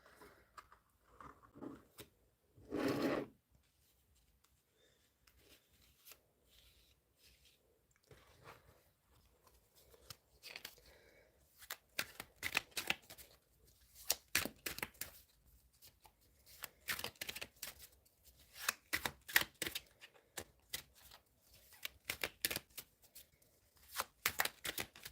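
Tarot cards are shuffled in repeated bursts of quick riffling and flicking, soft and close. After a brief muffled rustle near the start, the shuffling grows busier in the second half, with short pauses between bursts and no speech.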